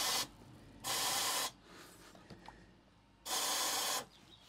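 Dinitrol rust-protection aerosol can sprays into the bulkhead of a Land Rover Defender TD5 in two steady hissing bursts, each about half a second to a second long, separated by quieter rustling.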